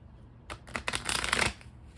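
Oracle cards being shuffled for a tarot-style reading: a quiet start, then a second and a half of close, crisp riffling and card slaps that build in loudness before stopping abruptly, with no talking.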